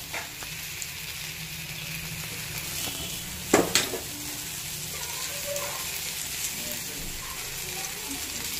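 Soybean chunks for veg biryani frying in oil and being stirred, a steady sizzle with a clatter of the spoon against the pan partway through.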